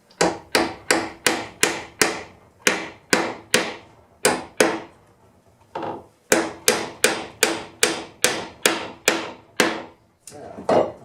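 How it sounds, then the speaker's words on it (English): A hammer taps wooden pins into a drawbore mortise and tenon joint on a workbench, giving sharp, close, evenly spaced knocks in quick bursts of several strikes with brief pauses between runs. "We're going to tap them in with the hammer."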